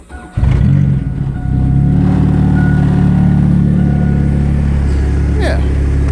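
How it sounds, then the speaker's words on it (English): The engine of a car being revved, with intake noise, growls loudly and close at a steady high idle, rising in a surge near the start and then holding. Someone talks over it. "The intake sounds are a lot better."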